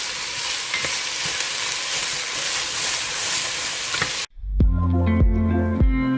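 Onion and squash fry in a hot pan, a steady, dense sizzle with faint stirring scrapes that cuts off abruptly partway through, after which music plays.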